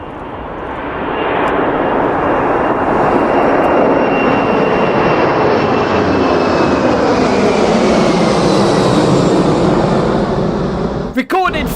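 Merlin-engined aircraft roar past in a loud, sustained fly-by at dusk, the engine drone building quickly and holding broad and steady before a sharp crackle at the end.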